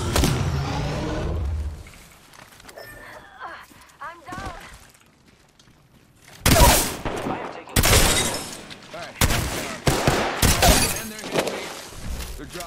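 Gunfire in the Apex Legends Mobile video game: loud, sharp broadband bursts in the second half, several in quick succession, after a quieter stretch with voices near the start.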